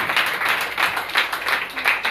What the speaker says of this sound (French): Nous allons applaudir, s'il vous plaît.